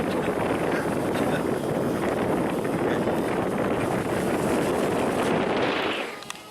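Strong outdoor wind buffets the microphone during an X-Vert drone flight, a loud, continuous roar that holds steady for several seconds before easing off at the end.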